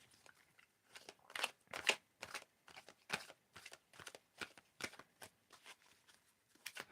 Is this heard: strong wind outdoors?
no